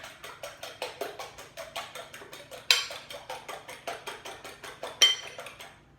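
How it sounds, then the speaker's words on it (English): A fork whisks four large eggs in a bowl, making a steady, rhythmic clinking of metal against the bowl at about three to four strokes per second. Close and clear, with a couple of sharper knocks along the way. "Just take a fork and whisk your eggs first together before you add it to your chocolate"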